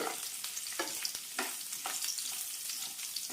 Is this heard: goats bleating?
no